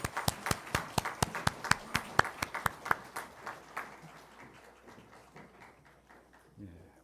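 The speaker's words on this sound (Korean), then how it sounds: "다시 한번 하나님께 영광 박수 올려드리겠습니다." A Korean church congregation at an Easter Sunday morning worship service claps in praise, loud sharp claps falling together in a steady, brisk rhythm that soon loosens and fades into scattered softer claps and quiet murmuring.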